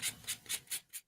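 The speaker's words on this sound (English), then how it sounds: "I'm going to take my sanding block here" Five quick, evenly spaced scraping strokes of a sanding block rubbing against a paper edge, close and crisp, with nothing else audible.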